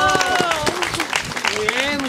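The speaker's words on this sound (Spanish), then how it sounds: "¡Fuerte el aplauso!" An audience applauds at a school event in Navojoa in 2021, with brisk clapping under excited voices calling and cheering over it.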